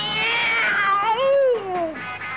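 A cat meows in a long, loud, drawn-out wail that bends downward in pitch, heard alone and up close, part of a cartoon comedy sketch.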